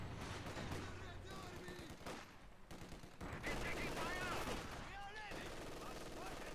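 Gunfire and bursts of combat noise in Company of Heroes 2, a World War II strategy game with mortars and an M5 in play, sounding as dense, continuous battle clatter over a game mix.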